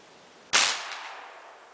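A single sharp shot from a .58 caliber Beowulf big bore air rifle charged to 3,800 psi and firing a 433 grain bullet from a bench rest outdoors, one loud crack with a decaying tail and no talk.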